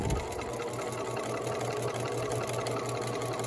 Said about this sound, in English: And I take a couple of stitches, then I backstitch 2 or 3 times.